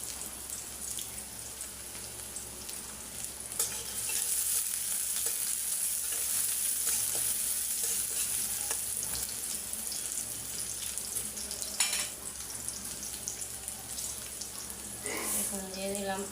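Chopped onion and green chilli frying in mustard oil for a hilsa fish curry, a steady broad sizzle running throughout with occasional stirring clatter and faint background noises.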